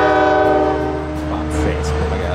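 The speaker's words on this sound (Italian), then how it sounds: "Questo è un treno turistico a due piani." A double-decker tourist train sounds a long, loud horn as it passes close by, the tone holding and then fading while brief voices are heard in the background.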